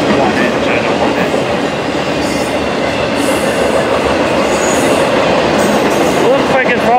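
A freight train with a single engine rolls past at Fullerton, a loud close rumble of cars and wheels that stays constant, with faint squeals near the end.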